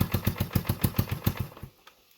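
A 1989 Yamaha Big Bear 350 ATV engine, revived after sitting over ten years and running on reserve fuel without choke, idles roughly with fast, uneven loud chugging pulses that stumble and die out within two seconds.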